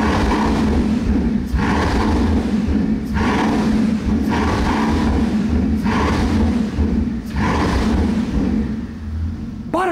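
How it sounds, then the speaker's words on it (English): Bugatti Chiron Super Sport hypercar engine revving close by, five deep surging blips repeating at a steady rhythm, each rising and then dropping back to a rumbling idle. "Take a listen to some revs from the Chiron Super Sport."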